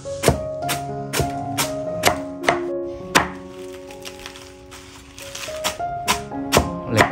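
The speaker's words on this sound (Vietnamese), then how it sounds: "Em Mai là em đang băm rau." A large bone-chopping knife minces vegetable sprouts on a board, giving a run of sharp, close chops in an uneven rhythm with a brief pause midway, over faint steady tonal background sound.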